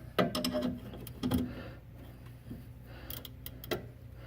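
A wrench works on the front sway bar end link of a BMW E46, giving a few short, close clicking and ratcheting mechanical sounds with quiet gaps between them.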